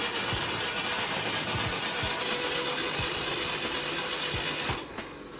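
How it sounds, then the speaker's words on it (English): Zaporozhets car engine cranking after carbon cleaner spray in each cylinder, a steady mechanical churn with rhythmic low thumps, loud and close, slowing near the end with no voices. "You spray it into each cylinder when the pistons at bottom dead center, let it marinate, then crank the engine."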